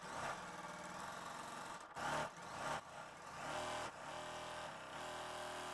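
Home sewing machine stitching a bear paw quilt block, a steady mechanical whir that runs in several long bursts with short pauses between them, close and fairly quiet.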